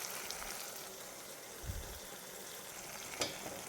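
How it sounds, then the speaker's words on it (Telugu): Ginger, garlic and coconut paste with softened tomatoes frying in a pan for an egg masala curry, giving a quiet steady sizzle with two brief scraping stirs, no voices. "ఇప్పుడు అల్లం వెల్లుల్లి కొబ్బరి పేస్ట్ వేసి కలియబెట్టాను"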